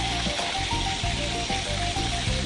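Marinated pork frying in a hot pan gives a steady, close sizzle with crackling oil spitting throughout, loud and continuous with no voices.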